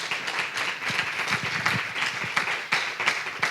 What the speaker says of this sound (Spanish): pidiéndoos un aplauso para los farmacéuticos, especialmente